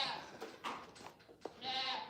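A five-week-old goat kid on a goat farm bleats in several short, wavering calls, close and fairly loud, with a longer cry at the end and brief gaps between.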